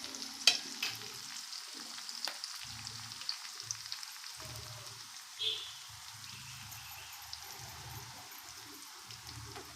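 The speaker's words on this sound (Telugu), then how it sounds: "లేతగా ఉన్న గింజలు మాత్రం తీసి నూనెలో ఫ్రై చేసుకుంటున్నాను" Tender bitter gourd seeds frying in oil on a low flame, a soft, faint sizzle with scattered light crackles and occasional stirring scrapes and a few sharper pops.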